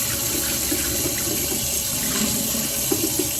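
Tap water runs steadily into a kettle being rinsed out, a constant close splashing wash that lasts a few seconds, with no voices over it.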